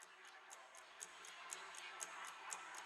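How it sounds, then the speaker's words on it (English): Steady wall clock ticking inside a house in the Let Me In horror game, about two ticks per second, faint and regular beneath a soft background hiss. "I can hear a clock on my wall."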